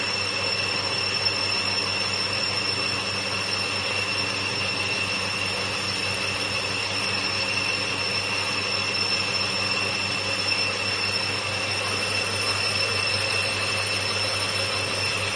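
A boring machine cuts an engine cylinder sleeve, giving a steady, continuous mechanical whine with a sustained high tone that stays even throughout, with no voices heard.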